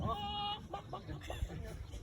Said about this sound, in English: You watch this chicken.